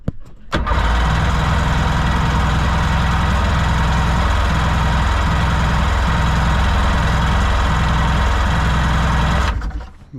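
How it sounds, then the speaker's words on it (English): A Seadoo GS jet ski engine, a broken unit under repair, turns over and runs steadily with a low throbbing drone and faint periodic pulses, sustained loud and close for about nine seconds before cutting off. "it's turning over now, but we'll get a bit of throttle perhaps and see what happens"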